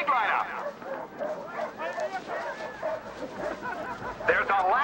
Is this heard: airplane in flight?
no